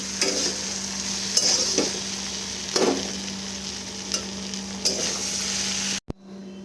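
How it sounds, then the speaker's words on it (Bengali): Potatoes with poppy seed paste are stirred in a sizzling pan, a spatula scraping in several separate strokes over a steady frying hiss, near and alone, then cut off abruptly. "তো পোস্তটা দিয়ে একটু নেড়ে ছেড়ে"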